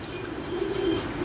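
Pigeons coo softly in a loft, low murmuring calls close by with faint rustling of wings over a steady background hiss.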